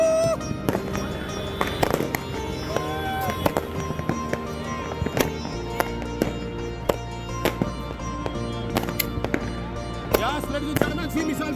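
Missile-format fireworks firing during a celebration night display; a rapid string of sharp cracks and whistling launches repeats loudly and close, with an excited voice talking over them.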